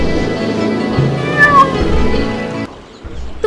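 A miller's cat in an animated fairy tale meows loudly, one drawn-out wailing meow with a rising and falling pitch, close and clear over a soft music bed.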